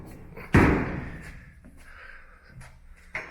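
Back doors on a 1961 Willys swung shut, one loud close-range slam with a ringing metallic tail, followed by smaller rattles and a second lighter thud near the end.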